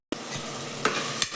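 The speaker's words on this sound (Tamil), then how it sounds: "வெங்காயம் தக்காளி வதங்கட்டும்." Onions and tomatoes sauté in oil, starting abruptly with a steady sizzle broken by two sharp scraping strokes of a spoon.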